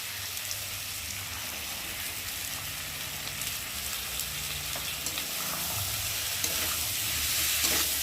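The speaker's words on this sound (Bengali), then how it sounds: "মশলাটা ভালো করে কষিয়ে নেব।" Spice masala with peas frying in a pan, giving a dense continuous sizzle with faint stirring scrapes that grows slightly louder toward the end, close up and with no speech.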